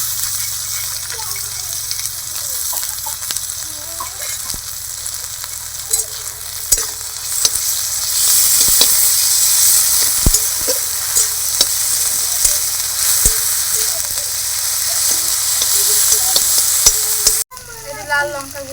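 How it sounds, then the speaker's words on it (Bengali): Onions fry in a pan with a ginger, garlic and cumin paste, giving a loud, steady sizzle with scattered scraping and tapping of stirring throughout, close up, cut off abruptly near the end. "পেঁয়াজটা একটু ভেজে নেবো ব্রাউন কালার করে।"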